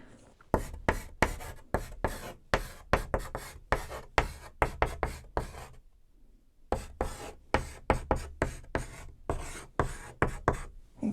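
Marker strokes on a board come in quick, uneven bursts of scratchy squeaks and taps, close and fairly quiet, with a short pause midway before the writing resumes.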